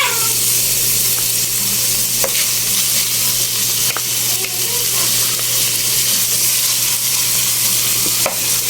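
Butter sizzles loudly in a hot pan while corn cooks for creamy chicken, a constant close hiss broken by a few sharp clicks and taps of a utensil.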